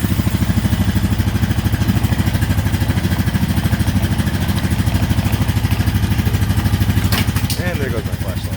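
A 2015 Honda Rubicon ATV engine runs loud and close with its airbox open, a steady rapid throbbing idle that holds for the whole stretch. Someone speaks briefly near the end.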